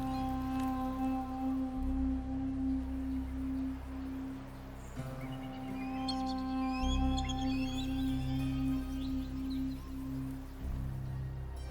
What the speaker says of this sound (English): The rain is passing.